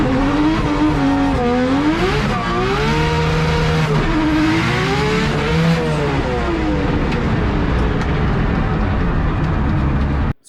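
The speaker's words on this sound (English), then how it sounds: "I zinged third gear and I also did second gear a couple of times" Manual car engine screams to high revs when a gear is missed, a loud sustained wail whose pitch rises and falls in several surges over about ten seconds, with no talking, cutting off abruptly at the end.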